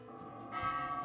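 Temple bells just outside Wat Marukkharam Nakhon, a Thai Buddhist temple with a 50-meter chedi, give a steady ringing tone that swells midway into a clearer, louder shimmer, fairly close, with no voices.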